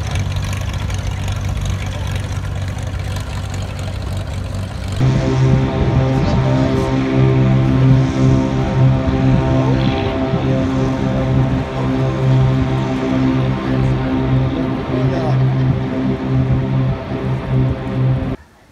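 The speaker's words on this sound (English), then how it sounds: "And there's the plane." A propeller airplane flies near a snowy cottage location, its loud, steady engine drone swelling in and holding for most of the stretch before cutting off abruptly at the end, with no talk.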